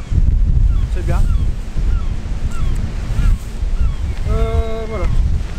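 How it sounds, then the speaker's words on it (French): Strong outdoor wind buffets a microphone near open water, giving a loud, constant low rumble with gusty swells, while faint tonal calls or squeaks come through briefly near the end. "le vent commence à monter"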